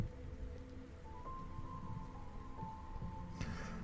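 Steady, quiet rainfall patters softly with a low background rumble, and a brief rustle comes near the end.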